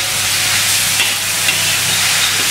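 Tauco, a fermented soybean paste, hitting a hot pan for a green bean dish, giving a loud, steady, close sizzle and hiss with no one talking.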